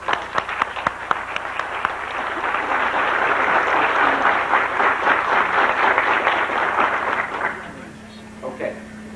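Audience applause breaks out in a congressional hearing room on the status of Albanians in Yugoslavia: dense, sustained clapping lasting most of the clip, then tapering off near the end as a voice begins.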